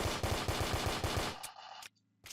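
Rapid automatic gunfire in a Roblox tycoon game rattles in a fast, even burst of about a dozen shots, followed by a couple of sharp electronic game sounds.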